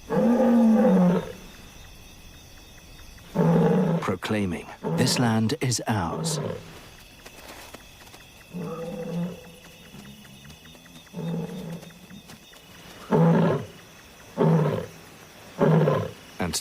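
Deep, throaty lion roars at night in Zambia come in a repeated series of grunting calls from a male, loud and resonant, with a narrator speaking over and between them.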